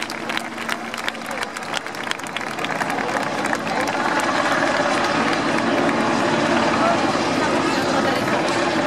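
An outdoor crowd applauds a rescue team after a municipal disaster drill with a helicopter, the clapping swelling and holding steady beneath someone talking over a loudspeaker.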